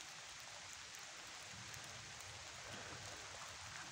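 Steady rain falling outdoors where cats have taken shelter, a constant soft broadband hiss with fine patter throughout, no voices.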